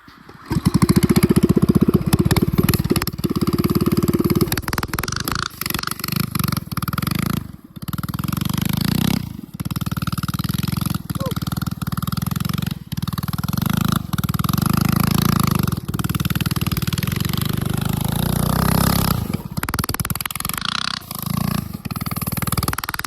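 Up close, a small mini bike engine drones loudly as the bike drifts through snow. The revs rise and fall over and over, with short cut-outs, and the throttle is held back from full power.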